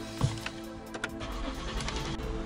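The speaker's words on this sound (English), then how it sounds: "Let's go ahead and start the engine." A Lincoln MKS engine starts, a brief cranking catch followed by a low, steady idle hum close by, with a few small clicks from the car's controls.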